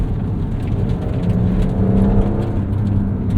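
Steady engine and road drone from a 2025 Porsche 992.2 Carrera 4 GTS, the all-wheel-drive 911, driving at a constant, loud, even pace with no talk.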